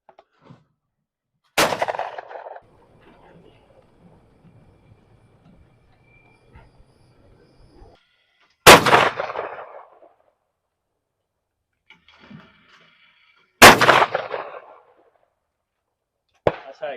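Three loud, sharp shotgun blasts ring out at a sporting clays range, each followed by a brief decaying echo, spaced several seconds apart with near silence between them.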